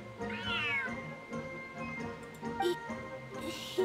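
A cat in the game Genshin Impact meows once, a clear rising-and-falling call close up, followed by a few small clicks and ticks over quiet background game sound.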